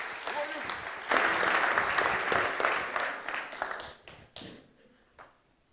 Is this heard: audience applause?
yes